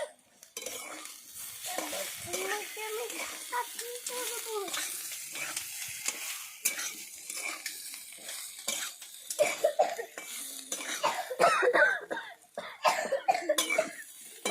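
Coughing from chili powder fumes while chilies and onions fry in a pan, with repeated coughs over the sizzle, scraping and stirring sounds close by.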